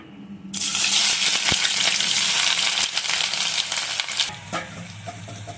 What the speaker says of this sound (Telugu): ఇప్పుడు ఇందులో ఉల్లిపాయ ముక్కలు, పచ్చిమిర్చి ముక్కలు వేసుకుందాం.